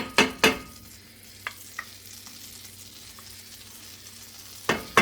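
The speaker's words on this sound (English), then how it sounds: "take those 4 tablespoons of butter and put them in the pan" Four tablespoons of butter hit a hot pan on the stove, with a few sharp clatters at the start and end framing a soft, low sizzle as it melts.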